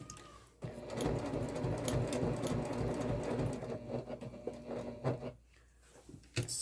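A sewing machine stitches along a bag strap for a messenger bag, a steady close mechanical whir that runs for most of the stretch, briefly pauses, then resumes in short bursts.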